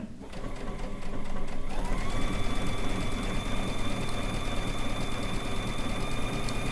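A sewing machine runs steadily, stitching rag quilt fabric in a fast, even mechanical chatter that starts up early and continues close and loud throughout, with no talking over it.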